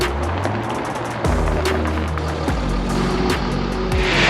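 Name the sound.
Jaguar XF-S twin turbo diesel car driving onto dyno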